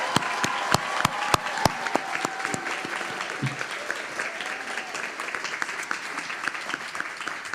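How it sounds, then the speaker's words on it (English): A crowd at a December university commencement claps for the graduates, starting with a few sharp, loud claps and then settling into steady, sustained applause, with a brief voice partway through. "How about one more round of applause for all the graduates?"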